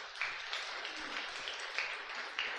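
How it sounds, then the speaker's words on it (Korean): A church congregation gives welcoming applause for a substitute pianist, a steady wash of many hands clapping with occasional sharper peaks, moderately loud and continuous throughout. "우리 환영의 박수 하도록 하겠습니다."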